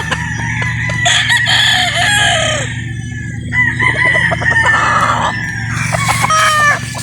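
A gray pikum local rooster crows close and loud, with several raspy crows in succession and a few clucks between them, no talk.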